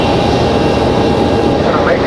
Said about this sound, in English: So that's FedEx 785 coming in from Memphis, Tennessee